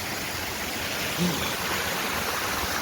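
Steady broadband rush of falling water at a waterfall near Balangoda, Sri Lanka, loud and close, constant throughout with no pauses.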